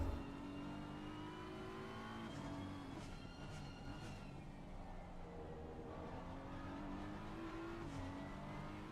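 A BMW race car accelerates around Snetterton in a sim racing game, its engine note climbing steadily through the gears with a shift and renewed rise, steady and close throughout.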